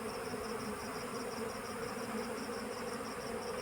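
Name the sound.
honey bees buzzing while hornets attack them near hive box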